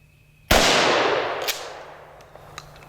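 A Mossberg 590 Shockwave short-barrel shotgun fires a single buckshot round at 31 feet, a sharp loud blast with a long ringing decay, followed by faint clinks.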